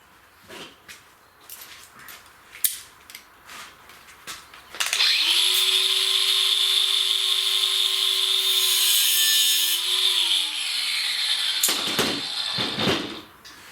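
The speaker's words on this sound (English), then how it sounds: "we'll cut it with a cutoff wheel" A cutoff wheel grinds through a steel brake cable with a steady high whine lasting about five seconds, preceded by scattered clicks and handling noises and followed by the wheel spinning down.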